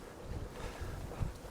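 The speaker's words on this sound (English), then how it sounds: "It's even windy down here, for crying out loud." Steady low rumble of wind buffeting the microphone, with gusty swells and a brief stronger thump near the end, no voices.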